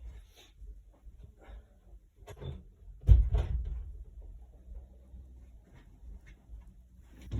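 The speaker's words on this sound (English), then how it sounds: "I'm just gonna close my bedroom door to block any sound." A bedroom door closes with a single solid thud partway through, preceded and followed by quieter handling knocks and soft shuffling in a quiet room.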